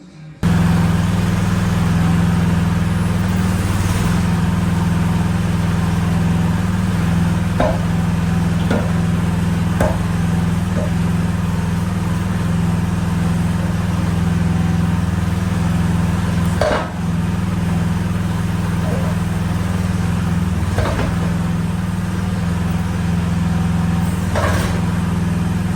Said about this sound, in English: For the rest of this video, I'm going to have the machine running